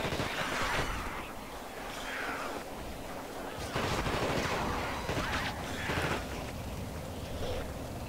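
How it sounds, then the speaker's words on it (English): Shotgun blasts and heavy gunfire boom in rough, uneven bursts over a noisy background during combat in The Thing on PS2, moderately loud with no one talking. "these guys keep shooting me up with their flamethrowers and shotguns"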